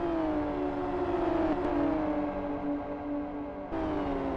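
A modded Camera JGT racing car in the Live for Speed video game drones at high revs with a smooth, steady engine note. Pitch eases slightly as it holds speed, and there are brief dips near gear changes.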